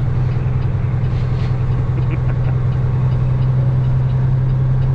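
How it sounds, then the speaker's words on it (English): A semi truck's diesel engine idles with a deep, steady rumble, loud and close, with no voices. "This truck is kind of loud"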